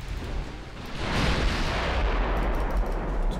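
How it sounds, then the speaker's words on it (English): Torpedoes launched at the Guyenne in a naval warship game, a broad rushing whoosh that swells after a second and holds loud and steady, with low rumbling beneath and no talking. "Torpedoes fire towards the Guyenne."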